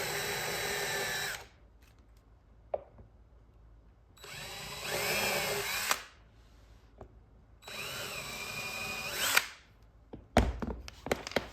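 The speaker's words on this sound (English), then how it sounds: "Now I drill it in." A power drill drives screws in three separate bursts with short pauses between, close by, ending with a few clunks and knocks.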